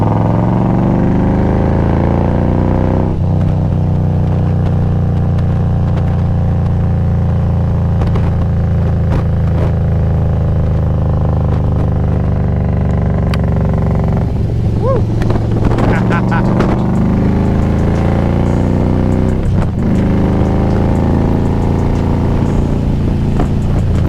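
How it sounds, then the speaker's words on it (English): Harley-Davidson motorcycle climbing a mountain highway, a loud, continuous low engine rumble with wind buffeting and shifts in engine pitch as the rider changes speed. "Man, I love the way that bike sound."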